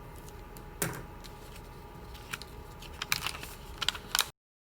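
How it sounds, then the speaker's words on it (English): A square of paper being folded diagonally for an origami iso-area flasher gives faint, close crinkles, scrapes and light taps, growing busier toward the end. "This corner to this intersection, creating that diagonal fold."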